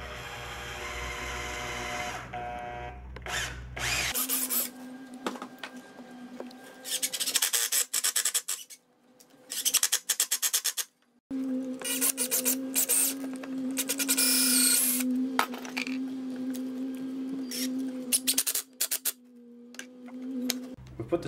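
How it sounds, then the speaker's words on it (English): Bursts of a power drill whirring and grinding as it drills through timber and drives screws, starting and stopping repeatedly with short pauses between runs. "I'm going to drill through and then put the screws in."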